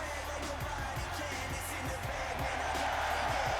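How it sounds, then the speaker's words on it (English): An arena crowd roaring in the WWE 2K25 wrestling video game as a wrestler heads to the ring, a dense continuous wash of cheering with faint rhythmic thumps beneath it, steady and full throughout. "You can hear the roar of the crowd in behind."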